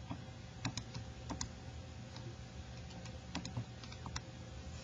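Graphing calculator keys are pressed while new points are entered, a scattering of small, close clicks in short irregular runs over a faint steady background hum, with no one speaking.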